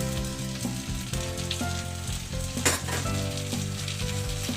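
Chopped onion, green chili and tomato sizzling in hot oil in a wok for vegetable khichuri, a loud steady fry with a few stirring clatters and a brief louder burst midway.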